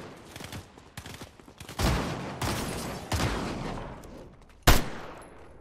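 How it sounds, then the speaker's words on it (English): Gunfire in the Fortnite video game: several bursts of rapid shots, some muffled as if from upstairs, ending with a sharper loud shot, without speech. "Somebody shooting upstairs?"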